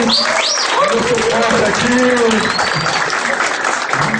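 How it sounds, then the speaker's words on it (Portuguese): Audience clapping at a sales training session, a dense steady wash of applause lasting throughout, with voices and whoops mixed in over the top. "Uma salva de palmas para a Isabela aqui"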